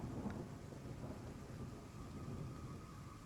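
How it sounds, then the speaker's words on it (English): A faint rain and thunder ambience played during a tabletop Dungeons & Dragons Curse of Strahd session, steady hissing rain with low distant rumbling throughout, quiet and even, with no talking. "And it starts raining again."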